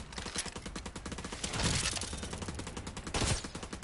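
Rapid automatic gunfire in The Division 2, a dense close burst of shots with a few louder swells, no talk over it.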